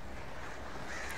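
Birds attacking in the video game Alan Wake, harsh crow-like caws and flapping swarming over a dense, noisy wash of wind-like rushing that fills the whole moment, loud and close.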